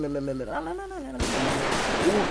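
Video game gunfire in a GTA-style street shootout against police, a burst of dense crackling shots beginning partway through and continuing loudly, preceded by a voice talking.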